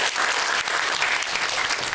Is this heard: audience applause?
yes